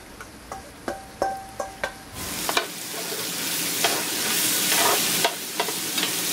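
Chunks of pork butt for chili go into hot oil in a pan: a few sharp clacks and taps, then a loud, steady sizzle with stirring scrapes, close up and without voices.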